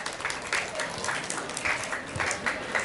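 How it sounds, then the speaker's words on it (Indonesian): A school audience at a religious gathering claps for a student, a moderate wash of applause with distinct individual claps popping out, some murmuring voices mixed in underneath. "Tepuk tangan dulu untuk Basilia."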